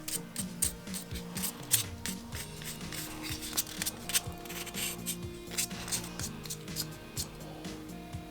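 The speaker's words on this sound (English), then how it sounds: "I am just going to hit this now with some really high grit sandpaper just to highlight the edges" High grit sandpaper is worked over the edges of a Jango Fett gauntlet prop in short repeated scratchy rubs, close and moderately quiet, over steady low background tones.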